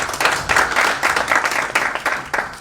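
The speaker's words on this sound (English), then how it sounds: "let's give a good round of applause to Honorable Ndindi" A room of attendees at an IPF meeting claps for Ndindi Nyoro after his speech, a loud burst of overlapping hand claps in uneven pulsing surges that carries on to the end.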